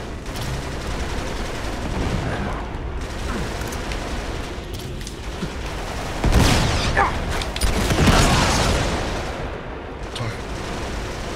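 Rapid gunfire and explosions in the video game Uncharted 3: Drake's Deception, dense bursts of shots with heavy booms swelling midway, loud and continuous.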